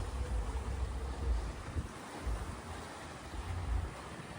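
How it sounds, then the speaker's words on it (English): Ocean breeze on a cruise ship balcony of Icon of the Seas, a steady rushing wind with low gusty rumble against the microphone and faint sea wash, continuous and fairly loud with no voices. "Isn't that nice? The ocean breeze."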